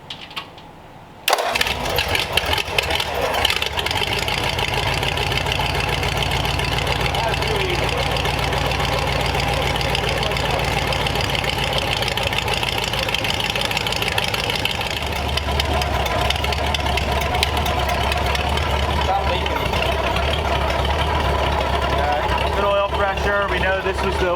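A replacement engine in a 1934 Ford cranks briefly, catches and settles into a steady rough idle that runs on, its tone shifting to a deeper throb partway through, with a person talking intermittently over it.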